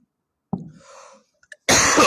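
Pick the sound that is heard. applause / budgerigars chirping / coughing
coughing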